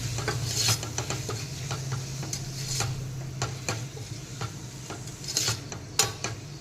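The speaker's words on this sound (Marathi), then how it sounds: "टोमॅटो पण एखाद दोन मिनटं परतून घेऊया" Steady sizzling of tomatoes sautéing in a pan, with repeated scraping and stirring clicks from a utensil throughout.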